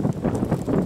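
Steady outdoor wind buffeting a microphone on a lakeside dock, a low rumbling rush that swells and eases throughout without a break.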